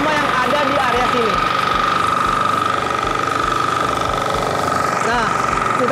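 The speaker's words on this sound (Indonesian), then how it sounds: "Kultivator ini bisa langsung membabat dari gulma-gulma yang ada di area sini." An FTL garden cultivator engine runs steadily while cutting weeds, giving a loud, continuous droning whine that never lets up, with someone talking over it.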